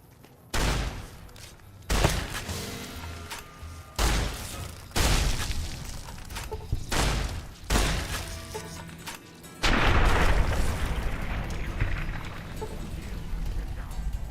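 A shotgun in the video game Helldivers 2 fires about eight heavy blasts spaced a second or two apart, each a sharp loud boom with a short decaying tail, ending in a denser burst of gunfire and rumble.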